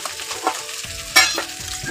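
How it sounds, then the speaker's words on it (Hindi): Vegetables sizzle in a hot pan as they are stirred, with a soft steady fry and a couple of sharp scrapes of the spoon against the metal, close and clear. "तो देखिए फिर सब्जी भून चुकी हुई तो अच्छा आती है।"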